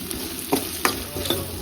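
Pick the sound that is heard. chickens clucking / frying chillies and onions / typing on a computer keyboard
frying chillies and onions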